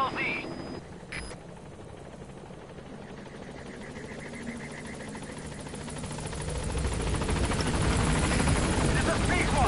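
Video game helicopter arriving at a landing zone, its rotor drone building steadily louder toward the end, with a radio-style voice talking over the start.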